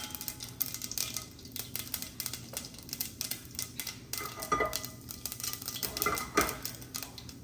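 Mustard seeds and cumin hit hot oil in a pan, giving a busy crackle of tiny pops and sizzling with light clinks of a spoon, moderately close and steady, with no talking.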